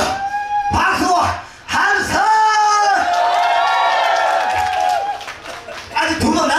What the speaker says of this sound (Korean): 다시 한번 박수 와!